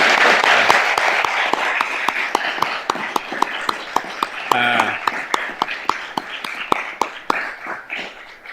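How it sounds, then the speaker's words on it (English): A conference room full of people applauding steadily after a keynote speech, dense clapping with a few louder individual claps standing out, fading slightly toward the end. "join me in a round of applause for this wonderful keynote speech"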